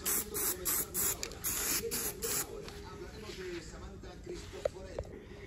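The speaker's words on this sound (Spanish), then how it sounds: "Esto es aparejo spray, no es pintura ni nada" A spray can puts primer onto an old jeep trailer in several short hissing bursts with brief gaps between them, close by, followed by quieter handling noises and a small knock.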